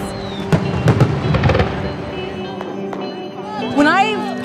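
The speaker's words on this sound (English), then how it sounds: "Everything's just better with fireworks." Fireworks crackle and pop in quick bursts close by at a water splashing festival in Xishuangbanna, then scattered bangs, followed by whistling rising tones as more shells launch; voices murmur in the background.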